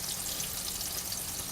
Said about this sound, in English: then we have two pieces of meat frying